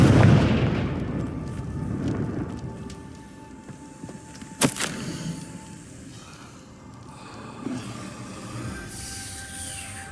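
A Confringo spell blast in Hogwarts Legacy bursts out as a sudden sharp crack amid rumbling game ambience, followed by a lingering low echoing boom.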